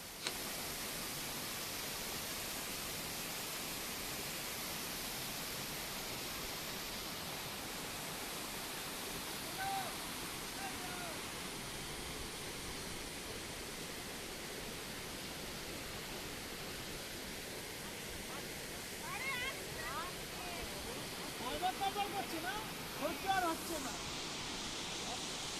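Turga Falls waterfall in Purulia pours steadily as a broadband wash of falling water, constant and fairly close, with faint bursts of voices near the end.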